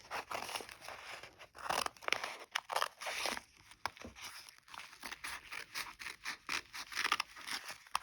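Fabric pieces for a table runner are cut with scissors in a quiet room, giving a run of close, soft crunching snips and rustles at an uneven pace.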